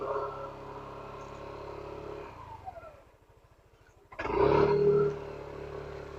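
A motorcycle engine being warmed up, idling steadily up close, dropping to a low chugging, then revving up loudly again.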